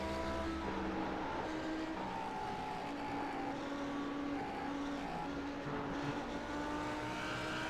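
An Audi race car in the iRacing video game, racing at the Nürburgring 24 Hour, with a continuous engine drone holding steady tones and shifting pitch over several seconds.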